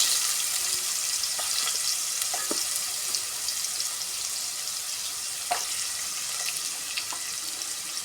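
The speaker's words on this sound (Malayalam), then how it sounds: "ക്യാരറ്റും ഉരുളക്കിഴങ്ങും വഴറ്റിയെടുക്കാം." Carrots and potatoes sauté in an oiled pan for a vegetable biryani, giving a steady close sizzle throughout with occasional light scrapes and stirring clicks.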